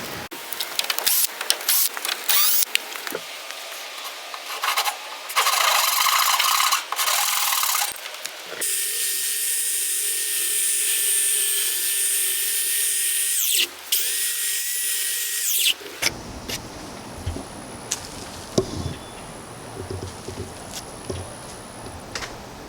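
A power tool saws a curved, rounded corner into the wooden top frame of a rooftop tent, giving a loud, sustained whining cut for several seconds, with shorter bursts and handling noise before it and a quieter hum after.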